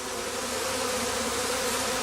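Bees around a straw skep make a steady, close, continuous drone of buzzing at moderate loudness, with no voices.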